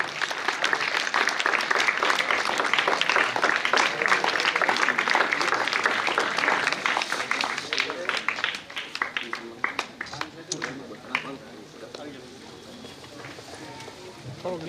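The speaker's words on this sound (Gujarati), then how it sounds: "તાળીઓ ચાલુ રાખો, અવાજ હજી ભી." A seated audience at a community honouring ceremony for two soldiers applauds in sustained, dense clapping that tapers off toward the end, with a voice speaking over it.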